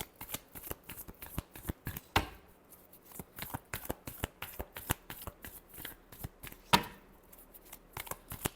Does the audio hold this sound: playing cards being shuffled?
yes